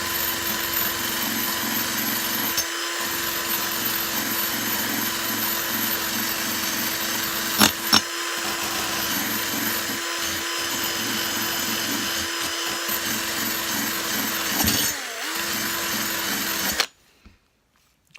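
Rust being worked off a metal part of a Hoover Junior U1650 vacuum cleaner with a power tool, a loud continuous whirring grind for about seventeen seconds with brief catches and dips, then cutting out.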